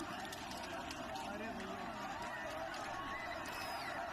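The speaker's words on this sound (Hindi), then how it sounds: "तो भारी भीड़ यहाँ देखी जा रही है।" Dense crowd of protesters gathered near Raza Masjid in Bareilly, a steady loud roar of overlapping voices and hubbub with no pauses throughout.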